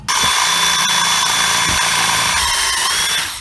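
Power drill driving a bit into metal, a loud, continuous high whine that holds steady for the whole stretch with slight wavers in pitch.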